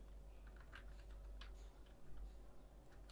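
Quiet typing on a computer keyboard, entering a search into Google, with a few soft scattered keystrokes over a low steady background hum.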